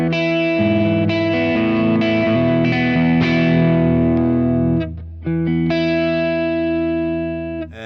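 An electric guitar on its middle pickup position, played through a Kemper Profiler, rings out in loud, sustained, slightly driven chords. The chords sit under chorus-like effects, then break off briefly and are restruck.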